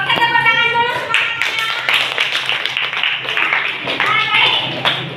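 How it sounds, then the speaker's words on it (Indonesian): A classroom of students claps along with clear sharp hand claps, while voices talk and call out over the applause. "Oke, tepuk tangan dulu semuanya"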